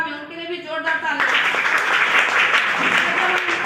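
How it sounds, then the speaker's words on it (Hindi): Loud, dense applause breaks out from the audience at a DXN business meeting, beginning just after a brief stretch of speech and continuing steadily to the end. "उनके लिए भी जोरदार तालियां"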